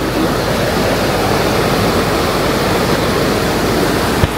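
River in Jibhi during the monsoon rushing past in a steady, loud, broadband roar of flowing water, close and continuous with no pauses, and a single faint click near the end.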